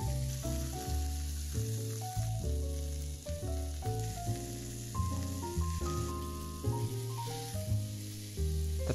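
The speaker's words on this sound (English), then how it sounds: "The sizzle is music to my ears and is truly relaxing to me." Burger patties sizzle in a frying pan, a steady crackling hiss running beneath soft music playing throughout.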